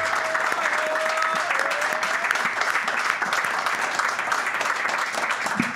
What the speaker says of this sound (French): je vais vous laisser vous applaudir